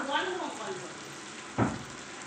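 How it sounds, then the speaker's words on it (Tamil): Ginger and spice masala sautéing in a pan for home-style biryani, a steady close sizzle with a sharp stir or scrape near the end and a voice speaking briefly at the start. "நல்லா வதங்கட்டும்"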